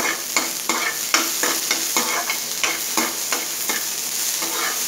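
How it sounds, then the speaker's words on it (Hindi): Okra (bhindi) frying in a pan for a dhaba-style dish, stirred steadily with repeated scraping strokes over a constant sizzle, close and fairly loud, no voices. "जब तक ये गोल्डन ब्राउन नहीं हो जाता, हम इसको हिलाते ही रहेंगे इसी तरह से"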